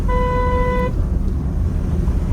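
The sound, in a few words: car horn honking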